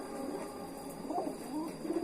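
A pigeon coos softly in a low, rolling murmur, a short call heard fairly close against a steady background hiss.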